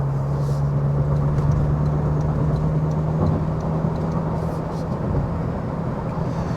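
Steady low road rumble and engine drone inside a 2025 Toyota 4Runner TRD Pro riding on larger off-road tires during a test drive, continuous and moderately loud with a faint low tonal hum and no talking.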